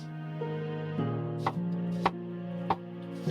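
A knife chopping onions on a board: four or five crisp, evenly spaced chops close up over a steady background hum.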